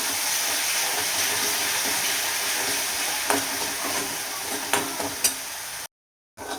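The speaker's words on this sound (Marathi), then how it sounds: "आता आपल्याला छान मिक्स करून घ्यायचं." Methi bhaji with moong dal and green chillies is stirred in a hot pan, a steady close sizzle with faint scraping strokes near the end before a brief silence.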